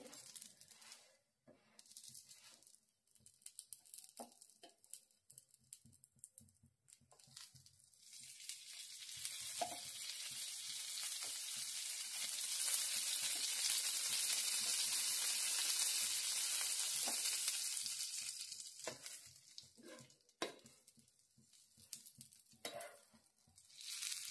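Pizza cooking in a covered pan on a gas stove gives a steady, soft sizzle that swells louder through the middle, with scattered light clicks and no talking.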